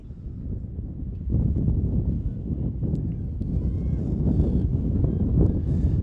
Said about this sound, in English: It is really gusting again.